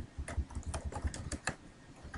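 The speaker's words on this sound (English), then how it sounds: "I'm going to type in English 1 and click enter, or hit enter on my keyboard" Someone types on a computer keyboard, a quick, uneven run of soft, close keystroke clicks that is fairly quiet and has no talk.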